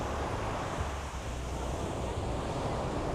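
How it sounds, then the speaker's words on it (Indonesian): Ocean surf washing onto a Bali beach, a steady broadband roar of breaking waves with wind buffeting the microphone throughout, continuous and fairly loud with no distinct individual crashes. "kangen nih ombak-ombak kayak gini nih"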